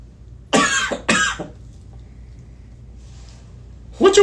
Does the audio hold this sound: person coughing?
yes